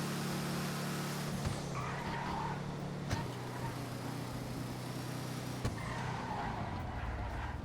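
A car corners hard and brakes, with a constant loud engine drone and tire noise running throughout and faint squeals rising twice as the car turns.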